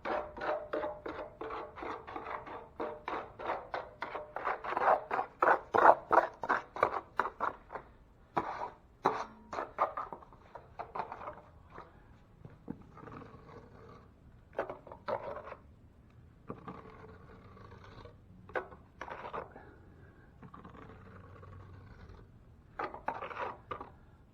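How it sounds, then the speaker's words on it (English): A 6-inch drywall knife skipping thin mud across a wall for lace-and-skip stucco texture, rapid close scraping strokes that cluster densely at first, then thin out into scattered slaps and scrapes. "the thin mud's just skipping off the knife"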